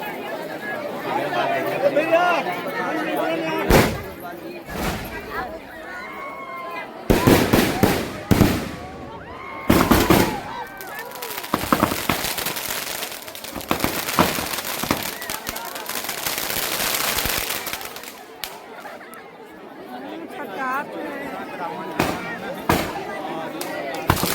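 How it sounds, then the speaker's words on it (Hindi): Repeated loud fireworks bangs and crackling bursts come in clusters, some near and sharp, over a chattering crowd and occasional talking at a village Dussehra festival. "फर्स्ट आतिशबाजी चालू हो गया है।"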